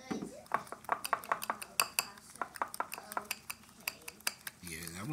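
A spoon clinks rapidly and rhythmically against a bowl while honey cornbread batter with milk is mixed, dozens of bright close taps with a brief voice near the end.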